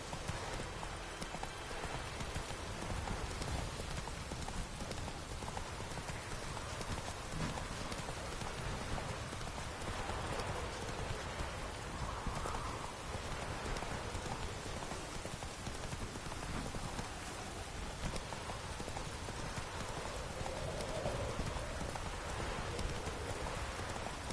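Horse hooves gallop in The Witcher 3 video game, a continuous rapid clip-clop beat running throughout under a hiss of rain.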